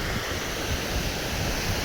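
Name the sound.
water flowing over overflowing Machhundri dam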